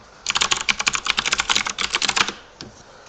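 Rapid, uneven keystrokes on a computer keyboard as a password is entered, a dense close burst of clicks lasting about two seconds, then one last isolated key press after a short pause.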